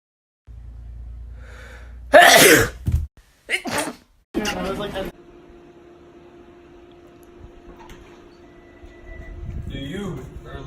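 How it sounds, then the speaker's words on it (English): One sharp, loud sneeze, followed by a couple of shorter bursts and gasps, then a quieter stretch with a steady mechanical hum in the background. "Do you or a loved one suffer from severe sneezing?"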